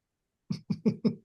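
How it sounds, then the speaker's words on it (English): Four quick, soft coughs in a rapid cluster, close by and fairly quiet, after a brief silence. "when you had to cough off screen"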